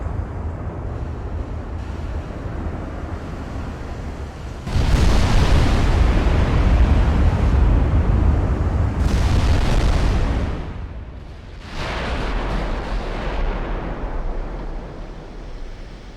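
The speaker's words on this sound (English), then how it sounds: "That's definitely a different sound on the guns too." Massive 20-inch naval guns firing in Ultimate Admiral: Dreadnoughts, heavy booming salvos with long rumbling decays, two big blasts separated by a lull over a steady low ship drone.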